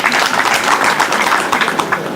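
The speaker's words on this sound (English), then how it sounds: "so please clap for yourself." Audience members at a community baraza at a regional referral hospital applaud, a dense, steady, loud wash of many hands clapping without break.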